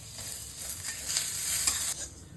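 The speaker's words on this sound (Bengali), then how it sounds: "খিচুড়ির জন্য মুগের ডালটা ভেজে নেব।" Mung dal fries in a pan for khichuri, a soft crackling sizzle with a spoon scraping and stirring through it, close and steady across the short stretch.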